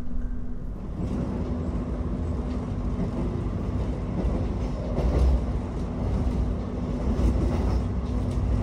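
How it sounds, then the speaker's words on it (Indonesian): Aboard the Argo Bromo Anggrek luxury sleeper passenger train, a continuous low rumble of wheels on rails carries steady clickety-clack and a faint hum, without pause. "Bentar lagi juga harusnya Argo Bromo Anggrek papasan sama kereta Sembrani nih."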